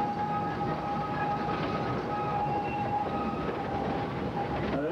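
A train rumbles steadily along the rails, with a constant low roar and a faint high whine running throughout.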